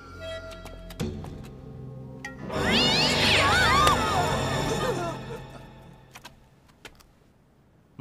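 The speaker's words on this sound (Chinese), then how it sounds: "猫叫声当鬼叫" A cat lets out a long, wavering meow at night in a Chinese period drama scene about a ghost scare. The cry is loud and near, set among scattered clicks and jangling.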